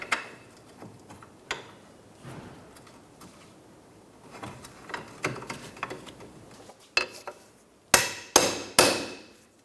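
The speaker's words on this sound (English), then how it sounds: "I'm going to twist it up and forward and hit my bolt through." Steel hammer blows drive a suspension bolt through the lower link of a 2007-2012 Nissan Altima rear suspension, starting as scattered light taps and clanks, then finishing with three loud, ringing strikes close up, no talking.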